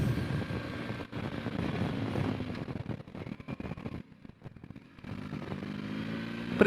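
A 2021 BMW R 1250 GS Adventure motorcycle ridden off-road on a wet track, its boxer engine droning and revving unevenly with wind rush, dipping briefly quieter before picking up again.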